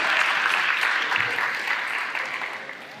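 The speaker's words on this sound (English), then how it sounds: "As the final speaker, I feel like we should give them a round of applause." Audience applause for the organizers at the PyTexas 2025 Python conference, a sustained crowd clapping that starts loud and full and gradually tapers off over a few seconds, with no talk over it.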